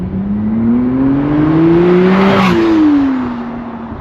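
A McLaren Artura Spider hybrid with its aluminum 120-degree 3-liter M630 V6 revs up loudly toward 8,500 RPM, the engine note climbing steadily for about two seconds and then easing down, heard close and clear.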